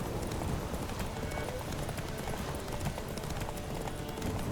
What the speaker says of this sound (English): ¿Por qué se demora tanto en partir el caballo?